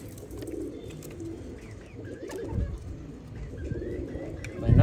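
Pigeons cooing at a fancier's loft, low repeated coos with some chirps over a busy background, moderately close, with a brief thump near the end.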